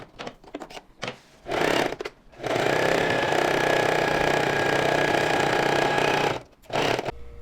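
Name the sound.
overlock sewing machine stitching jacket sleeves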